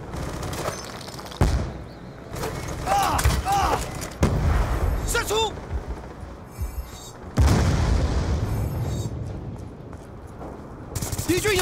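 Gunfire in the video game Call of Duty Black Ops 2 comes as several sharp, booming shots spread across the stretch, mixed with game effects while people talk throughout.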